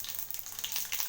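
Mustard seeds and other tempering spices sizzle and crackle in hot oil, a short, moderately loud bright fizz with quick pops.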